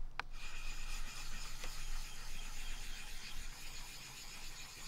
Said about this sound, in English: the way you use this is to create a slurry on top of the stone